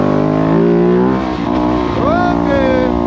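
A 250 motorcycle revs hard to lift into a wheelie, a loud sustained engine drone with rising pitch sweeps near the end, with a voice talking over it.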